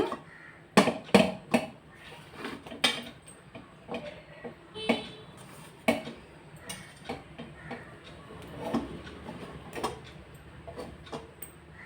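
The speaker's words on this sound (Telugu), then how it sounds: "వీటిని 4 పీసెస్లా కట్ చేస్తున్నా" Slices of bread cut into four pieces with a knife, a series of soft irregular taps and chops against a board, close and fairly quiet, with no talking.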